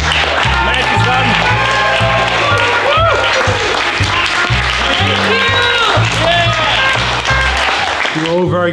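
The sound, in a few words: film crew applauding actor Matt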